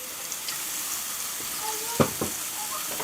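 Olive oil sizzling on a cast iron plate over medium-high heat, a steady soft hiss with a couple of brief clanks of a utensil, fairly quiet.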